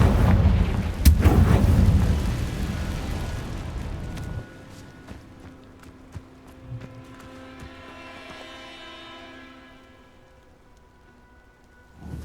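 A Confringo blasting spell goes off in Hogwarts Legacy with a loud, close burst and rumbling crackle in the first few seconds, then fading debris clatter and a quieter magical shimmer that trails off.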